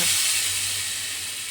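Hot tempering of oil with chilli and asafoetida is poured into chutney, producing a loud hissing sizzle at the start that slowly settles into a softer, continuous fizz, with no talking.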